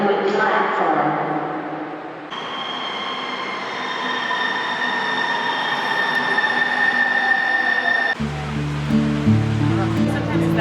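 Rumble and rushing noise of a Seattle transit train in motion, with a faint high squeal of wheels and a sudden change in tone near the end.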